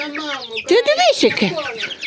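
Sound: chickens and rooster clucking

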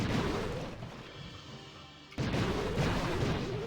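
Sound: bomb explosions in video game Clash of Clans

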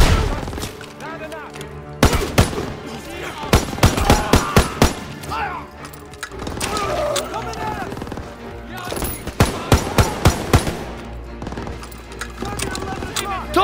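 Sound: gunfire in Call of Duty: WWII video game

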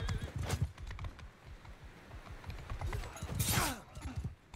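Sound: horses galloping in video game Mount & Blade II: Bannerlord

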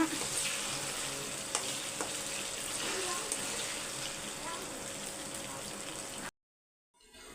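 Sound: mushrooms frying in oil, turned gently

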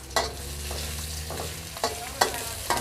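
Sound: frying garlic in a hot pan

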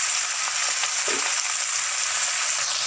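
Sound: gobi aloo shimla mirch sabji cooking on high flame

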